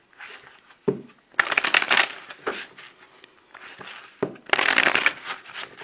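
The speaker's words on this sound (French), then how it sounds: "j'aime bien quand toutes les cartes sont dans le même sens. Allez, on y va, on mélange." Tarot cards being shuffled by hand in several crisp riffling bursts separated by short pauses, close and fairly quiet, no speech.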